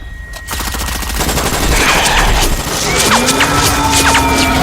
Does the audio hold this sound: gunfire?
yes